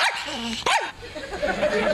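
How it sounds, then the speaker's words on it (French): A dog gives two quick close barks with a whimpering, yelping edge, the second sharper than the first, followed by softer whining sounds. It is indoors. "C'est le chien de mon beau-père que je garde pour la journée."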